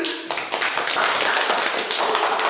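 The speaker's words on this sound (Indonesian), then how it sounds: "Beri tepuk tangan" Dense, steady applause from an audience at a teacher-training session for prospective Guru Penggerak teachers, filling the whole stretch with many overlapping claps after a brief quieter start.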